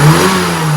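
A tuned car engine with a freshly changed condenser revs loudly up front, its steady mid-pitched drone holding strong with no one talking over it.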